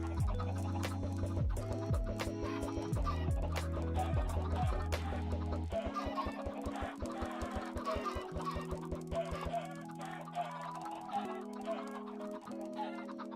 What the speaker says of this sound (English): Oh my goodness, I'm breeding the chickens.